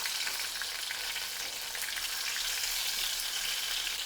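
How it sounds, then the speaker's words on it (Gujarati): Spice-stuffed tomatoes fry in oil, giving a dense, even sizzle that runs steadily throughout. "મસાલો ભરેલા ટમેટા છે એક એક કરી અને તેલમાં ઉમેરી દેવાના"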